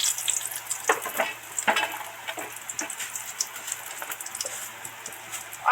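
Dried red chilli pieces and bay leaves sizzle in hot oil for a Bengali katla fish recipe, a steady crackling hiss broken by sharper spits and pops, close and fairly loud with no talking.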